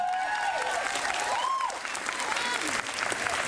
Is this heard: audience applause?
yes